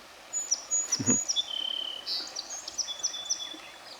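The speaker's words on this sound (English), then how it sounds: "the sun is shining, the birds are chirping away" High, thin bird chirps and whistled calls repeat outdoors, with a steady insect-like trill and a brief low thump partway through.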